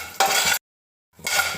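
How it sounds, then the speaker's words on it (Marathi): Roasted gram dal tipped into a pan and stirred, giving two short bursts of dry rattling and scraping split by a moment of silence. "पहिल्यांदा मी फुटाणे डाळ घालते."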